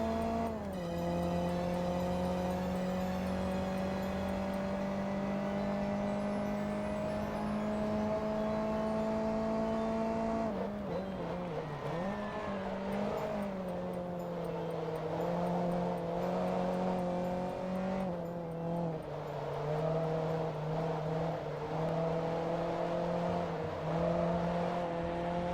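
Race car engine in the video game Forza Motorsport 2 whines steadily at high revs, pitch climbing slowly, then dips and surges through gear changes with faint tire noise, a continuous close drone.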